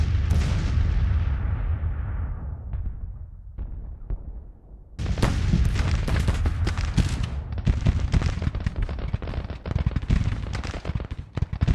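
Massed Civil War artillery pieces firing in a strategy battle game, loud booming volleys that thin out to scattered shots, then resume in a dense, continuous barrage of overlapping blasts.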